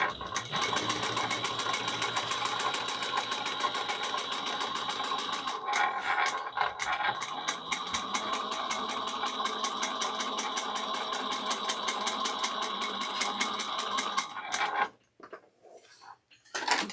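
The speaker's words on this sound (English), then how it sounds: "we're going to top stitch on the bottom of the bag at 1/8 of an inch" A sewing machine runs steadily, top stitching along the bottom of a handbag, its rapid even needle rhythm loud and continuous before stopping near the end.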